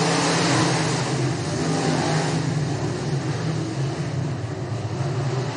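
Race cars accelerate hard out of turn two, a dense, continuous engine roar that stays loud and steady throughout with no pauses, several machines blended together close by.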